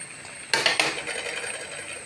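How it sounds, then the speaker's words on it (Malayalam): A metal lid is lifted off a pot of simmering anchovy aviyal curry, giving a short clattering clink of metal on metal followed by faint bubbling in a quiet kitchen. "അടപ്പൊന്ന് മാറ്റി നോക്കാം."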